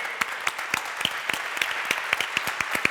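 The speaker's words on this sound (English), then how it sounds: "let's give another round of applause for Sergi for organizing this for the third" Audience applause at the Wasm I/O 2025 tech conference, with crisp, regular claps standing out over a softer spread of clapping, steady and moderately loud.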